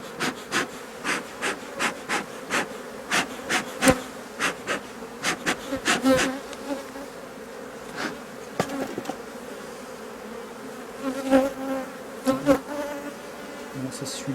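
Honeybees swarm over hive frames during an inspection for swarm cells, their close continuous buzz overlaid with rhythmic rubbing and knocking sounds of frames being handled.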